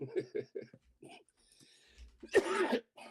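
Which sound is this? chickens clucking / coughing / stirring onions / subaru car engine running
coughing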